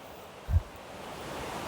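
Wei Sawdong waterfall in Meghalaya, heard close by as a steady, full broadband rush of falling water, with one brief low thump partway through and no voices.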